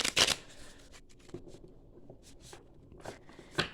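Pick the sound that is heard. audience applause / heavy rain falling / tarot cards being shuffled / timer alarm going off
tarot cards being shuffled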